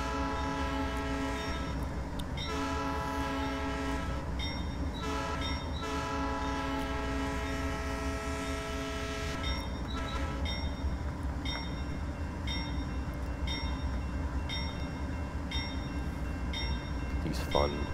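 A Southern Pacific AC4400CW locomotive hauling freight in Train Simulator Classic: a constant low rolling rumble of railcars runs beneath several sustained horn blasts that start and stop repeatedly, loud and close.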